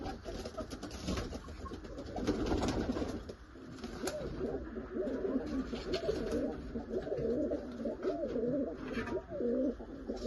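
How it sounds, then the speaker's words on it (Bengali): Pigeons kept for sale, including fine purple-red Punjabi birds and male and female pairs, coo over and over nearby in rolling, throaty phrases over a constant background murmur. "খুব সুন্দর পায়রা"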